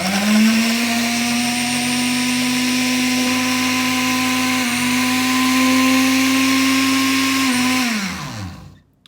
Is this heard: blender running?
yes